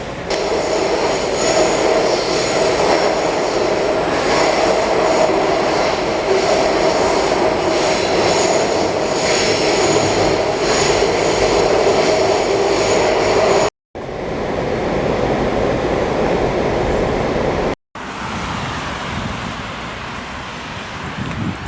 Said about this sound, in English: This is an Orange Line train to Vienna.